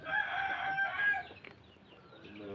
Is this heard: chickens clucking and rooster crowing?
yes